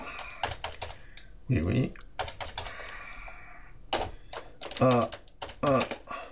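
Keys clatter on a computer keyboard in short, quick bursts of typing, close and clear, with someone speaking between and over the keystrokes.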